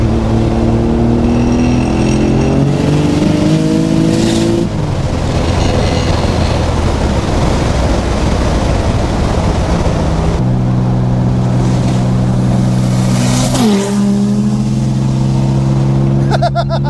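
A turbocharged Subaru BRZ with a screamer pipe accelerates hard through several gears, its engine note climbing and dropping at each shift, loud and close, with a rushing, hissing turbo roar between pulls.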